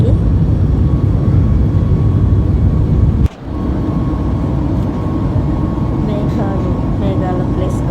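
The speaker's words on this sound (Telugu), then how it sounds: "మేఘాలను చీల్చుకుంటూ ఫ్లైట్ పరిగెడుతుంది." Inside an airliner cabin on a flight from Singapore to Hyderabad, a loud, steady engine and air drone fills the clip, broken by one brief dip partway through before the hum resumes.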